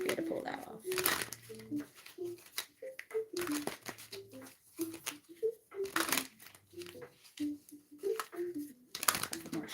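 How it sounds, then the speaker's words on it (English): Tarot cards being shuffled during a live mermaid oracle reading: repeated soft crinkling, riffling bursts in several separate rounds, close up, with someone talking over and between them. "let's get a few more shuffles"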